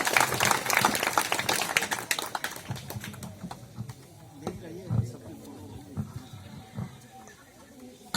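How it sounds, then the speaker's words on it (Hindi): Applause from an audience at a public gathering on a Lok Chetna Yatra, a dense patter of clapping that starts strong and thins out over several seconds, with voices and murmurs mixed in. "जोरदार ताली हो जाए।"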